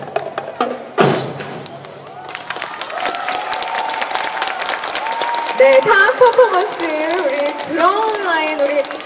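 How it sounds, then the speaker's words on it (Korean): An audience at a festival claps and cheers after a military academy band's percussion show, starting with a heavy thump, then building sustained applause while an announcer talks over it. "육군사관학교 군악대원들에게 여러분 큰 박수 보내주시면 되겠습니다"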